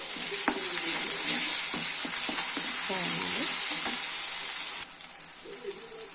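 Chili powder sizzles in a hot pan while it is stirred, cooking the base for a chicken meal. Steady loud close frying hiss runs throughout, with scraping stir clicks, and the sound drops slightly quieter near the end.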